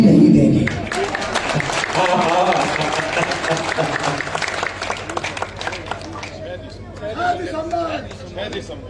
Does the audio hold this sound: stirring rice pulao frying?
no